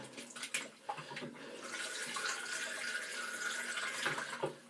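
Shaving brush being rinsed under a running tap, steady close water flow splashing for several seconds with a few brief bumps at the start and end; no talking.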